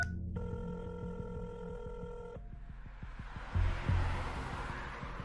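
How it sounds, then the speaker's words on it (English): A telephone rings as a sound effect: a sustained electronic ring tone for about two seconds, then a rapid string of clicks fading into a whooshing wash of noise. "he sees his phone ringing that was sitting on the passenger seat"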